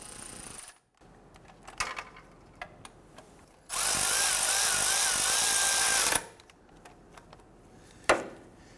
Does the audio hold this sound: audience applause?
no